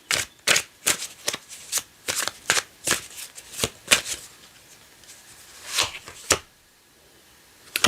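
Tarot cards being shuffled, a close run of sharp papery slaps and riffles in an uneven quick rhythm that stops near the end, with no speech.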